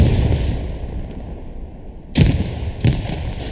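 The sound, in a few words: shotgun fire in the video game Hell Let Loose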